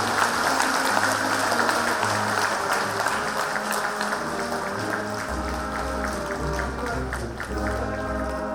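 Sustained audience applause at a Busan Vietnam War veterans' association inauguration ceremony, steady crowd clapping with a low hum underneath.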